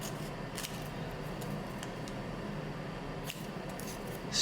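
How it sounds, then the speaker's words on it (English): Scissors snip through a cardboard Pocky box as characters are cut out, a steady close crunch of blades on card with a few sharper clicks and a louder rustle at the end. "So I'm gonna cut this, each of the characters out."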